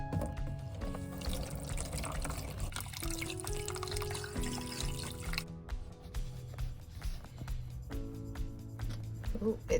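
Water poured from a container onto dry coir growing medium for sowing sweet pea seeds, a soft continuous trickle and splash followed by quieter drips and wet settling sounds.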